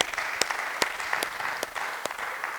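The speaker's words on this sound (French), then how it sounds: "Applaudissez pour le Seigneur Jésus" A church congregation applauds during worship, a steady wash of clapping with a few sharp louder claps standing out at a moderate distance, no talking over it.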